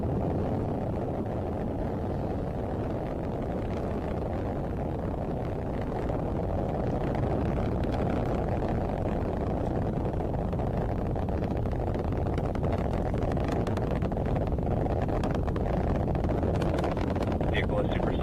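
Rocket launching the Sentinel-6 satellite, a steady deep roar and rumble heard from a distance that holds for the whole span while a voice speaks over it.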